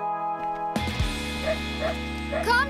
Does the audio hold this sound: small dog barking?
yes